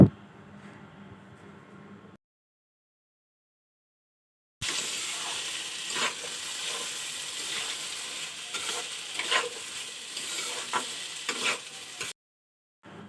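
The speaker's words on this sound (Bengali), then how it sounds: "এখানে সব রকমের ভাজা হচ্ছে ঠাকুরকে দেওয়া হবে বলে এটা পটল ভাজা" Pointed gourd slices fry in a pan as offerings for a Lakshmi puja, a close, steady sizzle with scattered crackles and stirring scrapes after a quiet stretch.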